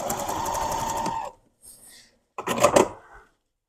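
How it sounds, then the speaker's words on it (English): A sewing machine back stitches a seam on a fabric stuffed goose, giving a close, fast mechanical whir, a brief pause, then a shorter, louder burst of stitching. "Just back stitching, trying to stand that line."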